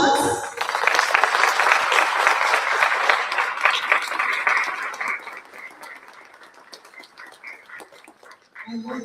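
A room full of people at an adult education graduation ceremony gives a round of applause, dense clapping that stays strong for several seconds, then thins and tapers off.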